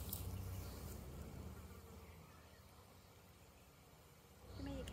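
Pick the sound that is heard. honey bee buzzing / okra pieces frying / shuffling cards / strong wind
honey bee buzzing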